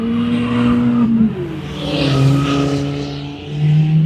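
Loud tuned cars at a Christmas car meet rumble and rev nearby, engines droning and rising in pitch with a brief squeal-like whine, steady and close throughout.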